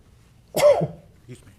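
One sharp sneeze bursts out close by, followed by a faint short vocal sound.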